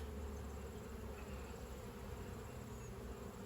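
Honeybees at an open Langstroth hive, a dense continuous buzz from many bees, steady and close with no voices.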